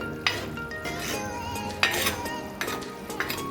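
A pot of papaya curry is covered with a lid, giving a few sharp metallic clinks and clatters spaced over a few seconds above a soft background sizzle, close and with no talking.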